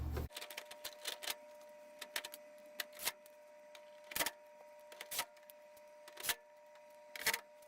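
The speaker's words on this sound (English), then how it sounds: "then put those 5 screws that hold it in place" Screws being driven in to fasten the back cover of a Samsung washer, heard as a series of sharp, faint clicks and ratcheting ticks spaced irregularly over quiet background.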